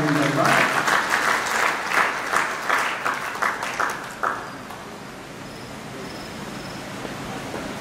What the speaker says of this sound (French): On va applaudir pour l'honorable Jean Ndaba.